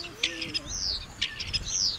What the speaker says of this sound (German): Bis zu 300 Vogelarten nisten hier, auch die Graureiher und die seltenen Kormorane.